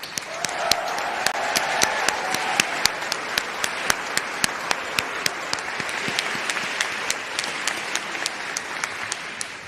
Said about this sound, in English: Please give a round of applause for our incredible staff.